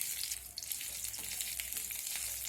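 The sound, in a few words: tempering spices and ginger frying in oil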